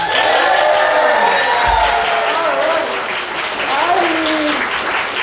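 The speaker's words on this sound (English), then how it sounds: "a big round of applause" Sustained audience applause at a back-to-school variety show magic act, filling the whole stretch, with a voice talking loudly over the clapping.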